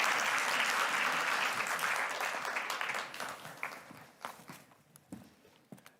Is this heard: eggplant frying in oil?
no